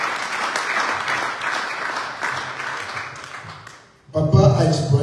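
A church congregation applauds in sustained, dense clapping that fades out, followed by a loud voice speaking.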